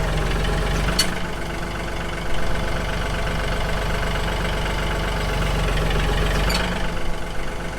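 Tractor engine idling with a steady low rumble while unloading a full load of oak, close and continuous, with two brief sharp knocks or clanks partway through.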